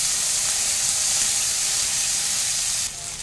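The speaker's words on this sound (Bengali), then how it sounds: "এর মধ্যে এখন আমি কুচানো পেঁয়াজ দিয়ে দেব। দিয়ে খুব ভালো করে এটাকে আমি ভেজে নেব।" Chopped onion fries in hot oil with already-fried shrimp, giving a loud, even sizzle up close. The sizzle drops noticeably near the end.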